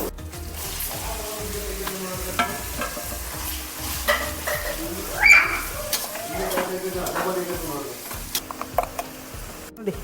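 Curry leaves crackle in hot oil with onions as a spoon stirs the pan, making a dense, continuous sizzle with scraping strokes and one sharper spit midway.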